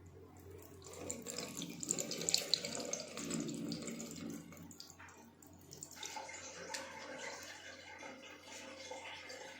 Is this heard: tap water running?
yes